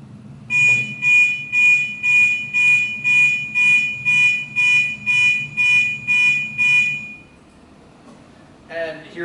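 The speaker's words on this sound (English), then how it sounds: "the pitch should be higher and it should buzz a little quicker" A microcontroller buzzer alarm set to a higher pitch, beeping in a rapid even series of about a dozen loud pulses before stopping, with faint room noise after.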